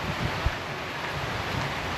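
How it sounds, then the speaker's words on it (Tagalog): Steady, soft wind noise rushing over the microphone on a rooftop, a low even hiss with faint rumble and no voices. "At yung hangin, banayad lang yung hangin."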